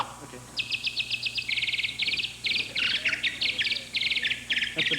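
A flute imitates a bird call in rapid chirping, trilling phrases of short repeated high notes, close and clear over a low steady background hum.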